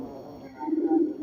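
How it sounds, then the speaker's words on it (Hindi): Pigeons kept by a pigeon fancier in a flock flown overhead, giving a soft, steady low cooing that swells midway and stays close and continuous, with no talk. "ये कबूतर हैं।"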